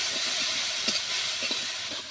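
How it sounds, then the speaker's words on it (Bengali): Prawns with salt, turmeric and slit green chillies sizzling in a pan while being stirred, a close continuous hiss with a few soft scraping knocks. "এখন আমি নাড়াচাড়া দিয়ে দেবো"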